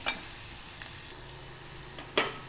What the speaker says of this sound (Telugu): కొద్దిగా వేగిన తర్వాత మళ్ళీ అందులో సగం బెండకాయలు వేయించుకున్నవి అందులో వేసేస్తాను.